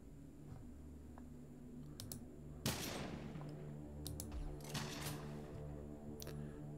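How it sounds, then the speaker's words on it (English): Gunfire in the video game Mechajammer: several sharp bursts of shots ring out over a steady low game hum, with one louder crack near the middle and more scattered shots afterward. "Can I shoot the gun out of your hand?"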